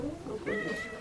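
A cat in a nomadic Afghan village gives one short, fairly faint meow that rises in pitch, set against a low background hum.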